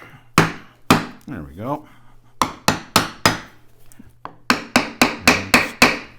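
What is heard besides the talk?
tapping Honda XL600R engine case to break silicone seal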